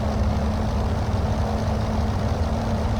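A steady, dense aircraft engine drone idles evenly around 1000 RPM throughout, loud and close, with a low throbbing hum and no voices, from a Globe Swift in a flight simulator.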